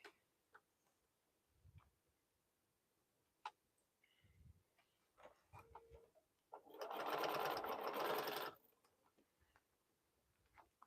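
A Bernina sewing machine stitching a quilted bowl cozy, a dense steady whirring run of about two seconds after scattered clicks and handling noises, close and fairly quiet.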